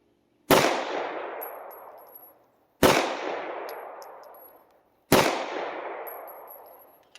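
A P320 X Compact pistol fired at a shooting range, three sharp, loud shots spaced about two seconds apart, each ringing out in a long reverberant decay with faint metallic pings after.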